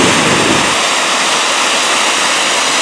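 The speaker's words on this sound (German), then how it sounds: "wie das Wasser zwar auch ein bisschen über die Mauer schwappt" Lake water at the Twistesee spills over a small weir wall from a little forebay, a loud, constant rushing wash close by, steady and uninterrupted.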